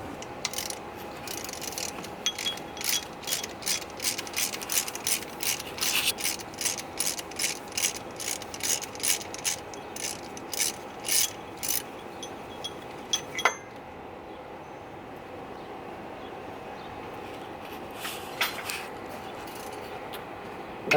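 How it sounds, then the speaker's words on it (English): A ratchet wrench with a 13 mm socket backs off the idler pulley bolt on a 2011 Dodge Cummins 3500, rapid bursts of close, crisp clicking repeated over and over, then a single clank and quiet hum. "That was a 13 millimeter to pull that idler pulley off."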